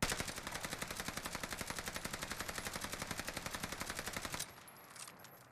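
Rapid automatic fire from an STG44 rifle in a video game, a dense, evenly paced burst of loud shots lasting about four seconds before cutting off into a brief fading tail.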